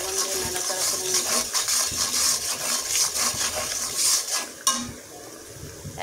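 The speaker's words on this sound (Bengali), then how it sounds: "লবণ দিয়ে নাড়াচাড়া করে নেব।" Chicken seasoned with salt is stirred in a pot, giving a steady scraping and rubbing of a utensil against metal with faint sizzling and a sharp knock near the end.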